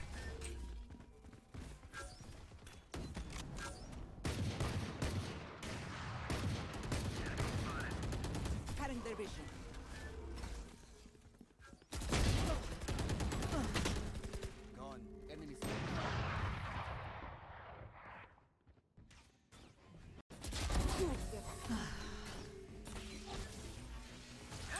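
Bursts of rapid gunfire and mechanical clatter in the video game Valorant come in waves with short pauses, dense and loud throughout, with a few abrupt cuts.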